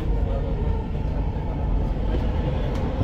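A Dubai Metro train passes along Sheikh Zayed Road, heard from inside a moving carriage as a steady, loud low rumble with continuous wheel and track noise.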